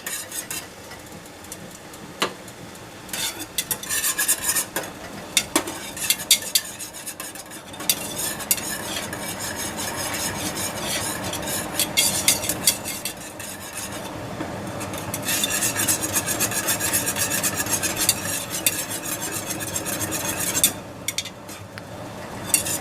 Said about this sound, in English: as I stir it, it doesn't stop boiling. So this is a rolling boil.